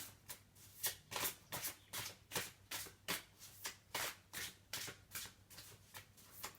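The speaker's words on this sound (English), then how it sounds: "we will just shuffle the cards really well" Playing cards are shuffled repeatedly in quick riffling bursts, close up and steady in rhythm, with no talking.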